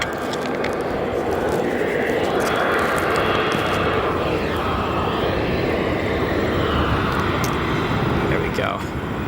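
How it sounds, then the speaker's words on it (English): Turkish Airlines and United jets at O'Hare Airport, their engines roaring loud and steady throughout, with broadband jet noise filling the scene and a sweeping tonal whine shifting across it. "Got a face-off going here between Turkish Airlines and United. Those engines absolutely screaming."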